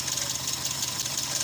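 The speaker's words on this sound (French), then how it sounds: "C'est un moteur d'une Renault 19, âgé de 30 ans environ." A roughly 30-year-old Renault 19 petrol engine runs steadily with a rough, uneven misfire, a continuous loud close mechanical drone with no talk.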